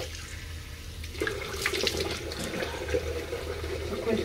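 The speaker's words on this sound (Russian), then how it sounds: "Сейчас еще ножик помоем." A knife is rinsed under a running tap, a steady close hiss of flowing water that thickens as the blade goes into the stream.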